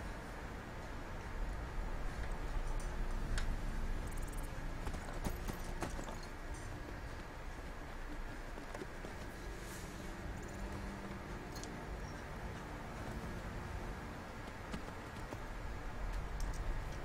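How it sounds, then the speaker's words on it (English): Horse hooves clip-clopping in modded Skyrim, a steady rhythmic run of hoof strikes that carries on for the full stretch, moderately loud with scattered clicks over it and no voices. "Horses."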